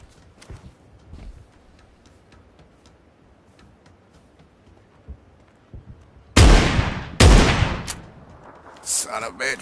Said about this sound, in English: It's a shotgun gun.